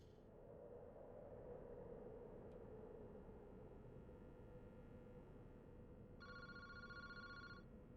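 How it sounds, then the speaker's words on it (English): A telephone rings in the horror game Paranormasight, a rapid electronic trill bursting in near the end over a steady low ambient hum, with a faint tone at the very start. "Boss, the phone is ringing."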